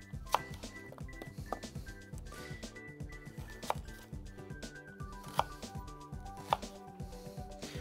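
An onion is cut into segments with a knife on a board, producing steady, close chopping taps in a quick rhythm, with a few sharper, louder knocks standing out at intervals.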